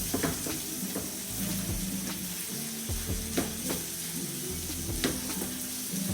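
Vegetables sizzle steadily in a hot pan while cooking, with occasional soft stirring scrapes and clinks over a constant frying hiss.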